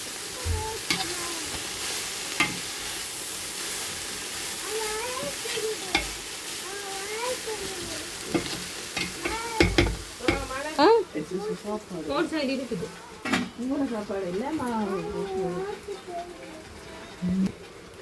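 Tomatoes sautéing in a pan give a steady close sizzle with scraping stir strokes, while voices talk over the cooking throughout the second half.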